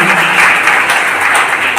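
Loud, dense applause rises from a large audience at an event in Barh, Bihar, welcoming the SDM, continuous and close throughout the brief moment.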